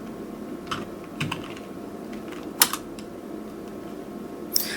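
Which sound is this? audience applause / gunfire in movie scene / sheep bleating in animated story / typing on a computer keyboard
typing on a computer keyboard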